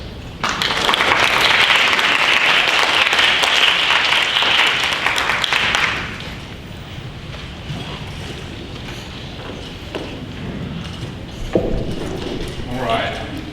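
Audience at a high school debate round applauding both teams, a dense, loud burst of clapping for about six seconds that fades into quieter room noise and murmuring voices.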